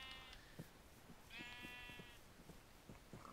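Sheep bleat repeatedly in Minecraft, several wavering cries spaced across a few seconds over a steady low background hum.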